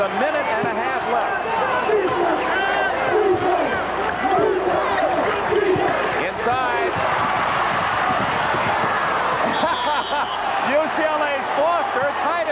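Arena crowd at the 1980 UCLA versus Louisville college basketball championship game roaring and cheering continuously, a loud dense wall of crowd noise with shouts, under a commentator's voice throughout.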